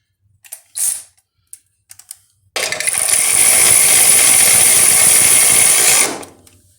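A nut is fitted on the water-to-air intercooler setup of an AWD Honda Civic EM2, with a few light clicks of handling and then a loud steady mechanical whirr of a power tool running for about three and a half seconds.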